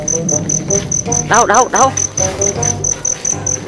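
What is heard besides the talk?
crickets chirping in a garden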